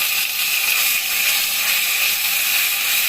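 Coriander-cumin paste and chili paste dropped into hot oil for a spicy pabda fish curry, a loud, steady, close hissing sizzle with no pauses.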